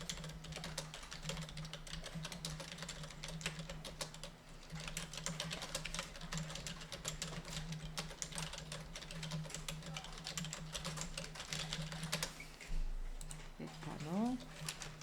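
Fast, steady clicking of a computer keyboard while entering data in Excel, heard close and fairly quiet, with a person speaking over it.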